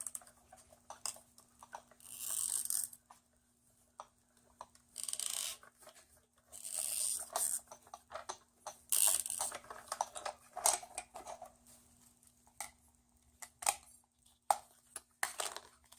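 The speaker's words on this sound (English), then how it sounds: "you'll want to run that through your die machine again" Paper and foam craft dies pressed between plates are cranked through a manual die-cutting machine, giving bursts of grinding, crunching rolling noise with short pauses and clicks, close and alone.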